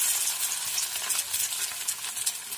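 Maggi Manchurian balls frying in hot oil, a steady bright sizzle with crackling bubbles, close and continuous throughout, with no talking.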